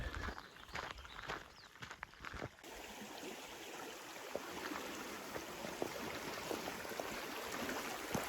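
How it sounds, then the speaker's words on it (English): Water from Kent Creek rushes down a flume in Kananaskis, a steady, loud broadband flow, continuous throughout, with a few footsteps or knocks early on. "All water from Kent Creek coming down the flume."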